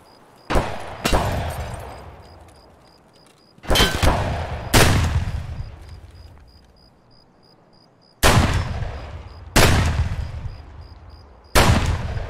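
Gunshots in the video game Escape from Tarkov during a night operation, several loud sharp reports spaced a few seconds apart, each trailing off in a long echoing decay, with no talk.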